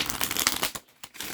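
A deck of tarot cards is riffled and shuffled close up in a quick papery flutter, broken by a short pause, then shuffled again, with no one talking.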